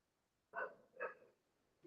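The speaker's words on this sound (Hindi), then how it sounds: "हमारे पड़ोस में एक कुत्ता भौंक रहा है।" A dog barking somewhere in the neighbourhood, two short, fairly faint barks about half a second apart, distant and alone with no talk over them.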